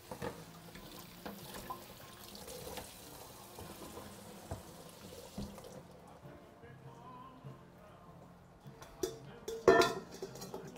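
Shrimp rinsed in a strainer under a running kitchen tap, a steady close water rush through the first half that eases off, then a few sharper clatters and splashes near the end, with no talking.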